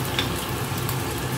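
Frozen onions hiss and sizzle in a hot pan as their water hits the oil, a dense, continuous crackle heard close and without talk.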